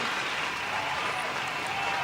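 Applause sound effect played on a podcast, a steady wash of crowd clapping filling the whole stretch at even loudness, with no break.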